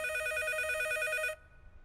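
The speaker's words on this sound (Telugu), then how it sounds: "ఈసారి ఫోన్ మోగుతుంది మన రూమ్ లోనే" A telephone rings with a rapid trilling electronic tone, steady and fairly loud, then cuts off abruptly leaving quiet room noise.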